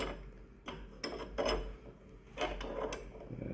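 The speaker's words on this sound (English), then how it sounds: "We're just going to screw it back in." Threads of a replacement Graco paint sprayer prime valve, coated with pipe dope, being screwed back into the pump: a few separate close scraping, ratcheting turns spaced over a few seconds, quiet and with no talking.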